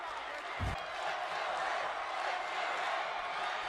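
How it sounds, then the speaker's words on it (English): Stadium crowd roaring at a 2015 Marshall Thundering Herd vs. Kent State Golden Flashes college football game, a broad distant wash of cheering with a single thud early on. "Listen to the crowd."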